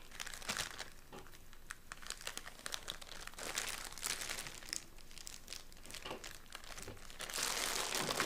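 Close, continuous crinkling of a plastic Ziploc bag holding clothing as it is zipped shut, with scattered sharp clicks and rustles throughout and a denser crackle at the end, no voices.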